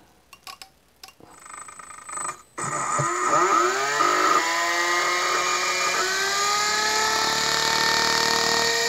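A car alternator converted into a brushless motor, run from a DC supply with an Arduino-controlled breadboard circuit, gives a few sharp clicks and stutters, then spins up into a rising whine that settles into a high, steady, loud tone.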